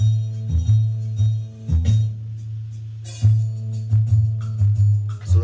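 A backing track with a steady bass line and punchy drum hits plays loudly, layered with brighter instrumental parts and no voices.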